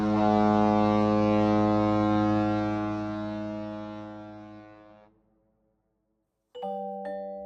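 A foreign merchant ship's foghorn in a children's story blares a long, deep, harmonically rich blast that slowly fades out. After a brief silence a second, higher two-tone horn sounds.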